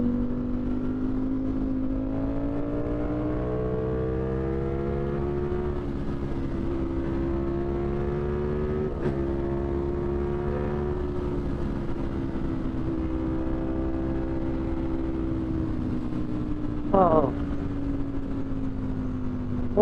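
A Ducati Streetfighter V4 motorcycle runs at high speed in fourth gear, its engine holding a loud, steady whining drone with rising pitch under strong acceleration and rushing wind throughout, no talking.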